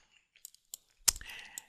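A single computer keyboard key is pressed sharply, a bright close click standing out after a few faint soft taps, followed by a brief low room rumble.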